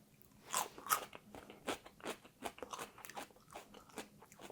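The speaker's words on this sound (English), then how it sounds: "Let's try this cucumber." A raw cucumber being bitten and chewed up close, with a sharp crunch at the first bite and then a steady series of wet, crackling crunches from chewing, with no talking.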